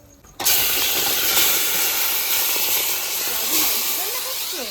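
Mutton dropped into hot oil with cumin, whole garam masala and bay leaf sets off a sudden loud sizzle that holds as a steady, bright hiss.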